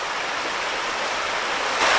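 Pennsylvania creek near Wild Creek Falls rushing over rocks, a steady, full, close wash of flowing water that swells slightly louder at the end, with no voices.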